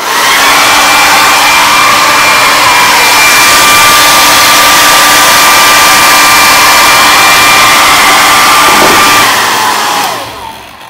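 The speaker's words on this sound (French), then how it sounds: "Donc, moi, je vais passer de l'air chaud et ça va accélérer le processus." A hair dryer blows hot air onto hair being straightened, a loud, steady whooshing roar with a constant whine that runs close up for about ten seconds before cutting off.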